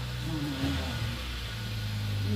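A car's engine hums steadily at moderate level with a slight rising rev as it moves off, a continuous mid-low drone with no voices.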